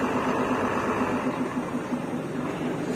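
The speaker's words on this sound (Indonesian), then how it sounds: "Gurih banget ini suara mesinnya." A bus's front-mounted engine idles with a steady, low rumble at close range, with a faint rhythmic throb and no voices.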